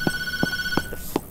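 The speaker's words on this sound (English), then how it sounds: "The phone is ringing." An in-game phone in the horror game Tattletail rings in short, evenly spaced electronic bursts with a steady tone, clear and alone.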